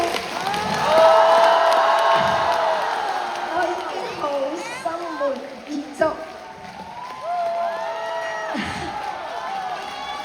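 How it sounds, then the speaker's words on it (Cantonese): A Macau concert crowd cheers and applauds, the broad roar swelling loud early on and then thinning out, while a voice speaks over it. "你哋嘅歡呼聲"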